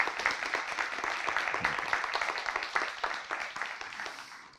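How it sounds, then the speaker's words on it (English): A symposium audience applauds with dense, steady clapping that holds for several seconds and then gradually thins and fades out, with no talking over it. "So can we have a round of applause for them"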